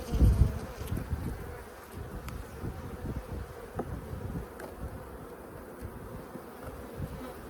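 Honeybees buzzing around an open hive during an inspection, a steady, dense hum of many insects close by with a louder thump at the start and soft handling noises, no talk.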